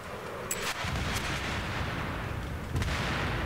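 Battlefield 3 combat on a Conquest map: a grenade blast and gunfire burst out sharply near the start, then a dense, steady rumble of distant fighting continues, with another crack of fire near the end.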